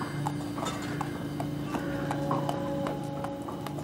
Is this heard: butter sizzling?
no